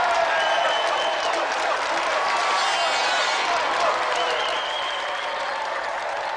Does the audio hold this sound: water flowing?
no